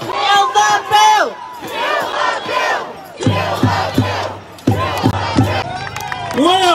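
A large outdoor protest crowd at a Kill the Bill rally in Melbourne chants in unison, loud, rhythmic shouted phrases repeating several times with short breaks, voices massed and close.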